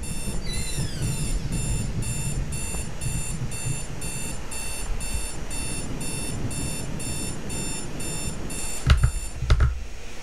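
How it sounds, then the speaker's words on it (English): Alarm ringing in a horror video game: a loud, rapidly pulsing electronic beep repeats steadily across the whole stretch over dense background noise, with a couple of sharp thuds near the end. "I found out how to turn off the alarm"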